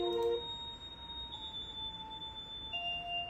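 A soft electronic chime from a song made in BandLab rings alone in quiet, high sustained tones with a faint glassy sparkle that shifts pitch slightly near the end.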